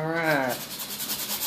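Cleaning an aluminum radiator from a 2007 Kawasaki ZX6R motorcycle before brazing, a short rough rubbing scrape, close and moderately loud, following a brief tonal squeal.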